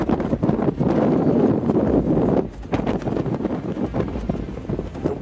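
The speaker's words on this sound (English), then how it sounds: "The winds were ridiculous" Strong wind gusts up to 40 miles an hour buffet the microphone in loud, rumbling gusts, easing briefly midway before roaring back with uneven flutters and thumps.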